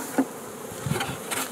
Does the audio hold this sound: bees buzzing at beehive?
yes